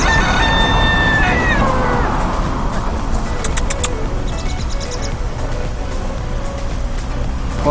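A rooster crows loudly near the start, its long rising call outdoors at a hotel in Grand Cayman, over steady traffic and vehicle rumble, with a few high chirps later.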